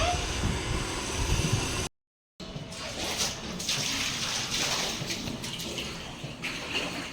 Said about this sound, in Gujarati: આપણે પાણીના બોટલ ભરી દઈશું